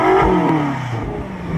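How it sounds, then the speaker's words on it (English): A 2016 BMW M6 fitted with an M Performance exhaust revs loudly and close, its engine note swelling and then sliding down in pitch as the throttle eases, with no voices. "Let's do some rev time with Trish."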